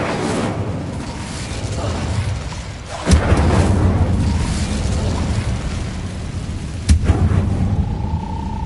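A fire spell cast in the Hogwarts Legacy video game sounds as a sustained fiery rumble, punctuated by two sharp, booming bursts about four seconds apart, with a faint rising tone near the end.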